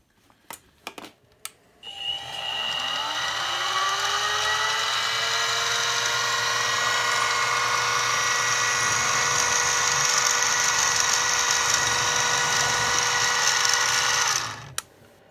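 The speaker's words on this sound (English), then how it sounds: "So start it with my center drill." A few clicks, then a Harbor Freight mini mill spins a center drill, its motor spinning up and whining steadily for about twelve seconds before stopping abruptly.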